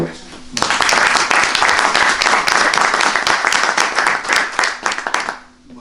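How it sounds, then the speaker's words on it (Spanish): Audience at a Spanish-language history lecture on the Marquesado de Encinares breaks into loud, dense applause that begins abruptly after a brief pause, holds steady for about five seconds, then tapers off with faint voices at the end. "Un aplauso para ustedes."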